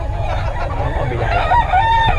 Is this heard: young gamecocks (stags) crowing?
yes